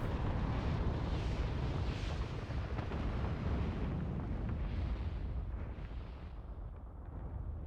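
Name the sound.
explosion in video game Final Fantasy XIV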